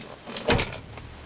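The middle seat in a Chevy pickup truck cab folds back with a short, close clunk and a soft rattle of its hinge, with lighter knocks before and after the main thump.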